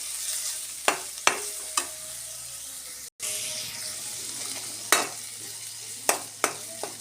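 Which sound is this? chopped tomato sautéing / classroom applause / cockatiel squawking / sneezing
chopped tomato sautéing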